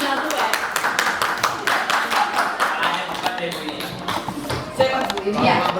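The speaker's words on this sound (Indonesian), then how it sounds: "Silakan aplaus dulu untuk Bu Iing." An audience applauds a teacher at an Indonesian school gathering, a dense run of close, lively handclaps continuing steadily, with a voice talking over it.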